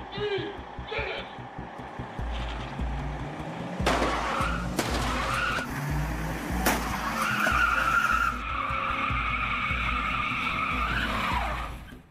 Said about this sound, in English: I could step on the gas, come in with power, hit them at a reasonable speed without any chance of injury